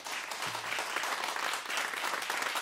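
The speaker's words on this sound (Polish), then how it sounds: "Wielkie brawa!" Audience applause at a jazz concert introducing a quintet, a soft, even patter of many hands heard from a distance, continuous across the whole stretch.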